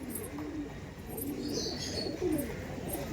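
A pair of pigeons for sale coo softly in a loft, a few low murmuring calls over steady background noise.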